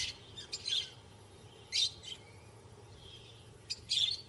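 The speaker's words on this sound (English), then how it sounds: "Lovebirds shelter in the shade of the rocks." Lovebirds sheltering among shaded rocks give short, sharp chirps in three separate bursts, fairly close, with quiet low rumble between calls.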